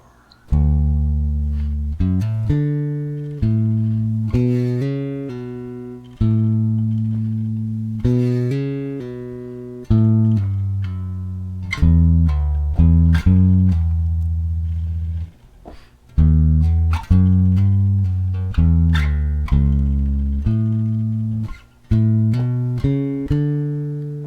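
An electric bass plays a solo phrase of slurred notes, each plucked tone ringing clearly and decaying before the next, loud and close with no talk.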